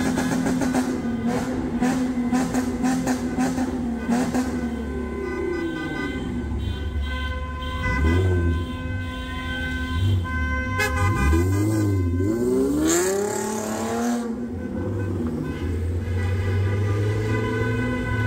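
Car horns from a wedding convoy on a street in Athens honk repeatedly, loud and close, with overlapping toots and long blasts over constant traffic engine noise.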